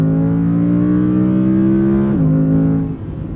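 Audi R8 Performance RWD Coupe V10 coming off high revs, its engine note holding loud and steady before dropping sharply into a burbling overrun that fades near the end, close and alone without talk.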